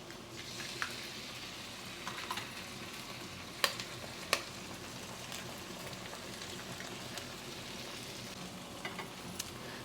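Eggs for egg porutu fry in a pan with a continuous close sizzle, like light rain on a surface, punctuated by a couple of sharp clicks of a utensil.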